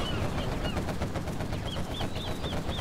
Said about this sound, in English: Quad cannon.